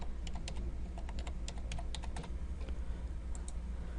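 Rapid, uneven keystrokes on a computer keyboard, close and fairly quiet over a low steady hum, with a short pause midway before a few more taps.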